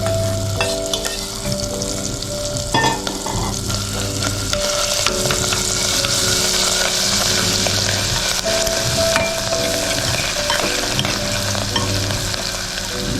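Whole ground masala spices sizzling in hot oil with cumin and asafoetida while being stirred, a steady loud frying hiss with scraping stirs, cooking stuffed parwal in a pressure cooker.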